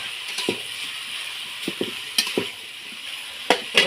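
Salted spice powder sautés in a pan for a hilsa fish curry, giving a soft, steady sizzle broken by a few sharp spoon taps and scrapes as it is stirred.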